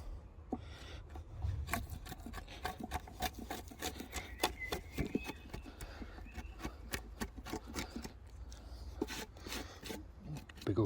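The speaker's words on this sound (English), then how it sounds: "Do with a nice long chisel." A long chisel cuts a half lap joint in wood for deck seating feet, giving repeated sharp scraping and paring strokes in an irregular rhythm, close and fairly quiet.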